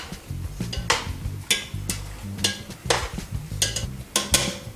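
Spaghetti and sauce are tossed together with tongs in a pot, giving wet stirring squelches and repeated metal clinks against the pan in an uneven rhythm, close and moderately loud, with no talking.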